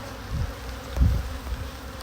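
Honeybees buzzing around an open beehive, a low steady hum with a couple of louder swells as bees pass close by, with no voices.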